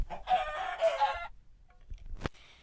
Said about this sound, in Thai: นี่คือไก่ครับ